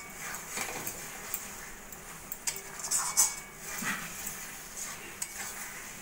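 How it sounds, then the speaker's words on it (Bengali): A utensil stirs roasted spices into mango pickle in a pan over a soft sizzle, with scraping and clinks rising and falling at close range, no voice over it. "মশলাটাও ভালো করে আমের আচারের সঙ্গে মিশিয়ে নেব।"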